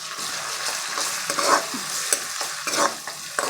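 Tomatoes and turmeric fry in a pan for an egg gravy as a spoon stirs them, with a soft sizzle under repeated close scraping and clicking strokes.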